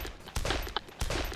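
Gunfire from the video game Arma during an ambush, several loud bursts of shots at irregular intervals, close and sharp, with no talking.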